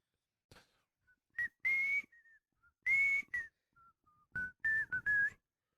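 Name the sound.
voice imitating a high-pitched creature whistle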